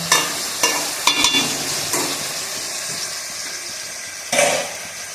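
Spices sizzle in a hot pan with prawns, green chilli and kochur loti, a steady frying hiss broken by several sharp scraping stirs, close and fairly loud with no talking.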